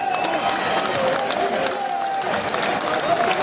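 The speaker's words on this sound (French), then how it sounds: "Et on peut applaudir aussi Jean-Pierre, notre arbitre de ce combat" Steady audience applause after a boxing bout fills the space, dense clapping from a crowd with some cheering, continuous and fairly loud.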